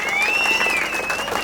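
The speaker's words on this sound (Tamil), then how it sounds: "நல்லா கைதட்டுங்க." Brief burst of crowd applause at the Otrumai Illam inauguration in Sengalathupadi, Yercaud, honoring Sathya Audios Manivannan, with a thin whistling tone of microphone feedback running over the steady clapping.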